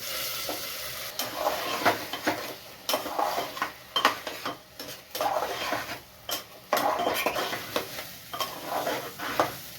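Rice and raisins stirred in a cooking pot right after cumin, for a mutton rice dish: close, steady scraping of the spoon and gentle frying sizzle, with irregular clinks against the pot and no talking.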